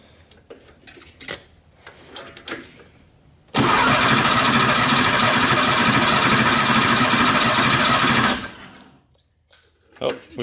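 Starter cranks a Porsche 911 engine during a compression test with the throttle held open: a loud, steady, rapid churning that runs about five seconds alone, then cuts off.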